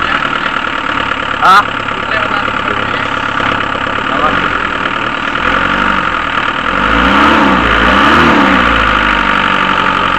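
A 2010 Mitsubishi L300 van engine, restarted after sitting unused for two months, runs steadily and loudly at idle with a brief rise in revs near the end, and a voice talks over it.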